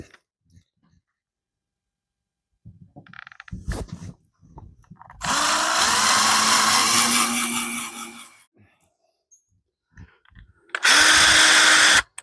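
A power drill with a pilot bit bores holes in two bursts, a long whirring run with a rising pitch followed by a shorter one, close and loud, separated by quiet handling knocks and clicks.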